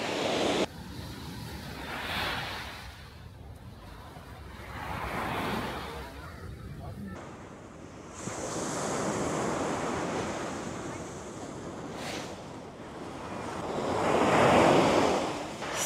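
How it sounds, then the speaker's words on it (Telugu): Ocean waves on Barceloneta beach in Barcelona, Spain, surge and wash in steady rolling swells, with gusts of wind buffeting the microphone throughout. "బార్సిలోనేటా బీచ్ ఇది"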